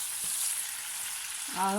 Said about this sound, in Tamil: இந்த இறால் 10 மினிட்ஸ் பொரிய விட வேண்டும்.